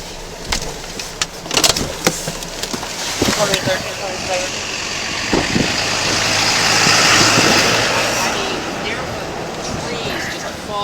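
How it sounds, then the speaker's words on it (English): A car engine starting and revving as the vehicle moves off, the roar swelling and fading over several seconds, with a voice speaking over the opening part. "Let me move my car out of the way."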